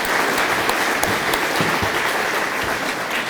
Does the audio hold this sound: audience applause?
yes